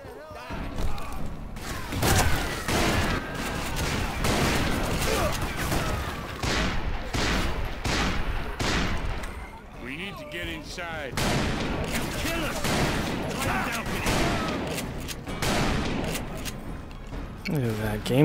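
Rifle fire in the Western shooter Call of Juarez: Bound in Blood during a prison break, with dense volleys of shots and booms running nearly continuously as players talk over the battle.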